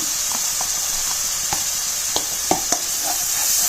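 Ginger and garlic paste with turmeric fries in hot oil in a pan, a steady close sizzle with a few sharp clinks and scrapes of a spatula stirring through it.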